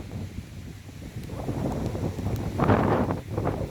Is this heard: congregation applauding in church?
no